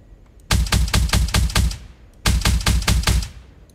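Rapid bursts of gunfire from a gun loaded with iridium shells in the game Zerahypt: two volleys of about six loud, evenly spaced booming shots each, separated by a short pause, with no talk.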